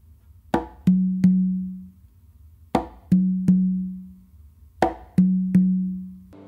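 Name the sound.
close slap on conga then two opens on tumba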